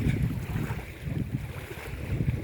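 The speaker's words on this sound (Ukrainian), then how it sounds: "Хвилі такі сьогодні прикольні. Неспокійна річка." Choppy waves lap and slosh on a restless river with greenish water, a near, continuous washing with soft irregular pulses, mixed with some wind buffeting the microphone and no speech.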